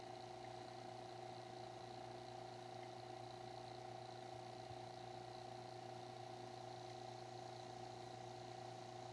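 A vacuum pump pulls down a mini split heat pump system, giving a steady, continuous mechanical hum with fixed tones that stays even and constant throughout, with no talking.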